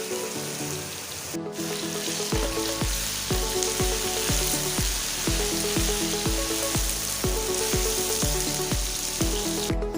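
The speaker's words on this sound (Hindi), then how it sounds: "और अब इसमें मैरिनेट के हुए चिकन डाल देंगे और इसको भी अच्छे से फ्राई करेंगे प्याज के साथ" Marinated chicken fries with onions in a pan, a steady, bright sizzle running close and constant beneath rhythmic background music.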